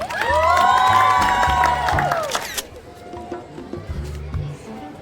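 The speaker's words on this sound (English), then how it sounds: "A huge round of applause for JEC Academy." Cheering crowd at an inter-school girls' kho-kho tournament prize announcement, loud shouts and whoops from students ringing out for a few seconds, then fading to scattered crowd noise and murmur.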